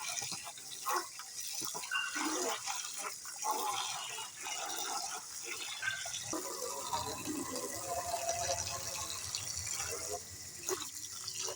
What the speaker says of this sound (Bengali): এটাকে এবার ভালো করে ধুয়ে নিতে হবে, মেখে মেখে ধুয়ে নিতে হবে